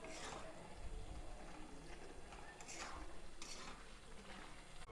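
Malabar spinach being stirred in a pan as its water cooks off, for a fish-head dish: a quiet, steady scraping and soft sizzle with occasional louder strokes of the spoon, with no voices.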